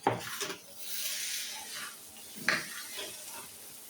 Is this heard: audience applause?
no